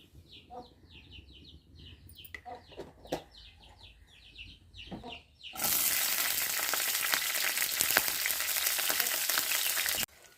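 Green chillies frying in a pan for a bottle gourd roti chutney. Bird chirps come first, then a loud, steady sizzle starts about halfway and continues to the end.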